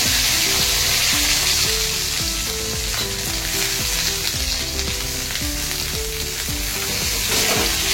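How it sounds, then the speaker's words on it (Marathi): Whole cluster beans (guar) fry in hot oil with green chilli, ginger and garlic paste. The sizzle is loud and continuous, with rhythmic stirring scrapes repeating throughout. "तेलात त्याला चांगलं परतून"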